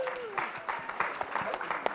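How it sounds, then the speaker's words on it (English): Applause for a speaker at a panel event on venture capital and philanthropy, with scattered claps at moderate distance and a voice speaking briefly over the start. "One more round of applause."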